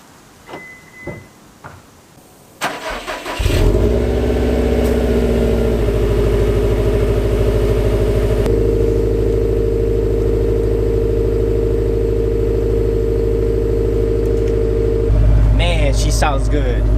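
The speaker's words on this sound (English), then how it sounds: "But first we gotta move this baby and do a cold start, the first cold start for the channel." A 2018-2020 Subaru STI starts cold after a few quiet clicks and handling noises, then settles into a loud, steady, rumbling high idle that stays constant and close until the end.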